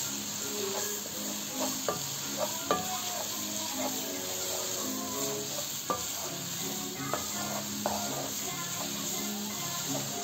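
Carrot gajar halwa with khoya and nuts stirred in a pan, the spoon scraping and clinking in irregular strokes over a continuous close sizzle.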